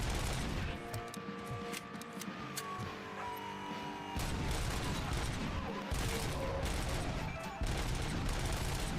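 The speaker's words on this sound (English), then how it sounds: "Shooting this weapon at range is quite hard." Weapon fire in the shooter game Robocop: Rogue City: loud, dense bursts of gunshots and rapid automatic fire with crashing impacts, continuous over several seconds and close up.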